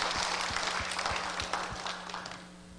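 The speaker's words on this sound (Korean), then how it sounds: "하나님께 영광의 박수 올려드립니다" A church congregation claps together in a steady rhythm, a room full of hands beating in time, loud at first and fading toward the end, with no talk.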